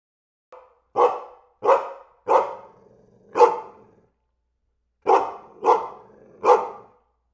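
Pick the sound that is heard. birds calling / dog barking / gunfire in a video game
dog barking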